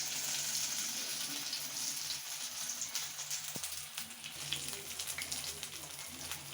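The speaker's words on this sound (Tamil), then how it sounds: "அதில் நல்லா டிப் பண்ணி இந்த பிரெட் கிராம்ஸில் ஒரு பெரட்டினீங்கன்னா அப்புறம் நீங்கள் இந்த எண்ணெயில் சேர்த்துடலாம்." Breadcrumb-coated potatoes fry in oil with a soft, steady sizzle and faint crackles throughout, heard quietly and close.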